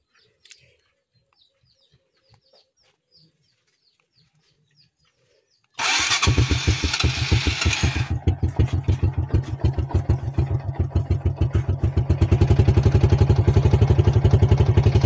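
A Honda XRM110 or TM155 motorcycle engine starts after a few seconds of near silence, roars briefly, then settles into a loud, steady, rapidly pulsing idle as it warms up.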